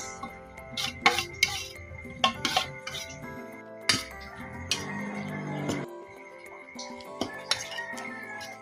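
Cabbage and potatoes are stirred in a pan, with irregular clinks and scrapes of a utensil against the metal, close and fairly quiet, spaced through the stretch with small pauses.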